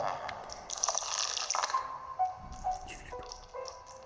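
Water dripping in Luigi's Mansion 3, a run of small irregular plinks and drips over a faint watery background, close and fairly quiet.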